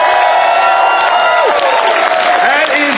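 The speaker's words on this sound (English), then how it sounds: "It makes all of us feel wonderful when we hear the applause like that." Audience at the MFF 2019 closing ceremony bursts into loud, sustained applause with cheering and high whoops, a dense crowd roar filling the whole stretch.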